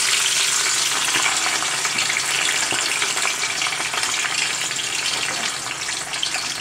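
Fresh spinach wilts in hot olive oil in a pan, giving a loud, steady, close-up sizzle and crackle that holds evenly throughout with no voices.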